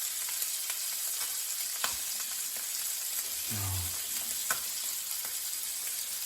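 A hake fillet pan-frying skin side down, a steady close sizzle with a few sharp pops and brief clatters, no talk.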